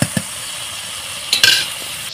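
Potatoes dusted with a little turmeric frying in a pan, a steady low sizzle running throughout with a couple of soft stirring knocks near the start and a brighter spatter of clatter toward the end.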